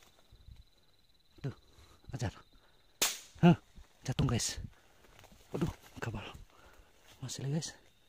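Sharp snapping air rifle shots while hunting rats at night, one loud crack followed by several quieter pops, with voices talking between them.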